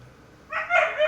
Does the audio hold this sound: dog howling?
yes